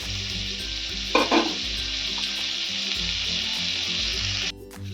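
A spoonful of butter melts in a pan on a gas stove, giving a steady close sizzle with a brief stirring scrape near the start. The sizzle cuts off abruptly near the end.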